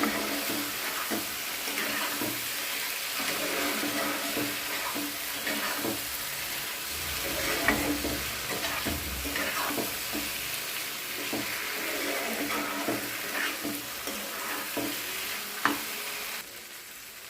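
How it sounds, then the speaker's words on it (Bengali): Pointed gourd (potol) sautés with spices and green chillies in oil, a loud continuous sizzle running throughout. Frequent scraping stirs and faint clicks of a spatula sound against the pan. No speech. "এবার আমি পটল দিয়ে দিলাম আর পটলের সাথে মশলাটা ভালো করে কষিয়ে নেব"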